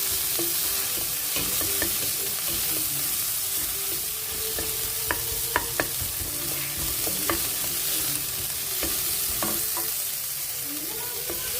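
Onions, chili and peas frying in a pan for poha sizzle steadily up close, punctuated by frequent sharp clinks and scrapes of a spatula stirring the pan.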